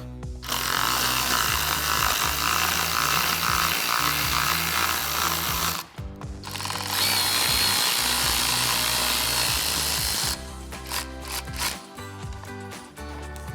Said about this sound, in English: we'll grab our T20 Torx bit and remove the 2 screws